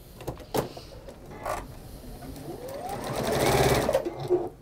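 A domestic sewing machine stitches a test seam on a scrap of fabric, its motor whirring in short bursts that build into a longer rising run of rapid stitching.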